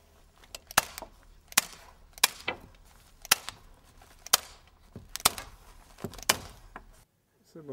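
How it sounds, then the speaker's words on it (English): Staple gun fastening insulation to a wooden batten, with about ten sharp, separate clicks spaced irregularly across the clip, near and fairly loud against a quiet background. "staple it every 5 centimeters to"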